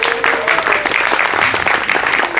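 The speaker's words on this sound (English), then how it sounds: "let's bring her out to a rapturous round of applause." Steady, dense audience applause at a food festival stage in Basingstoke, filling the whole stretch at a loud, even level with a few faint voices mixed into the crowd noise.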